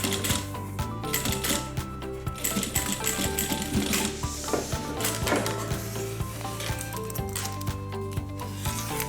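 A sewing machine stitches through a leather wallet in a steady, rapid mechanical rattle, close and continuous, with a few brief changes in pace.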